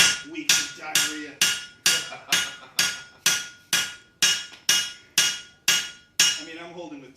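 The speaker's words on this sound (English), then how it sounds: "you really have a really badass power hammer" A power hammer strikes hot steel while forging a tomahawk, about a dozen loud, sharp, evenly spaced blows in a steady rhythm, close up, with no talking.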